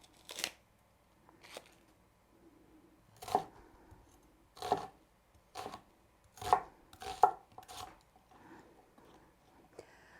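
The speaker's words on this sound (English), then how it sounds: "I'm going to peel and roughly chop my onions" A knife roughly chops peeled onions on a board by hand, about ten sharp, close thuds at an uneven pace with quiet gaps between them, and no talking.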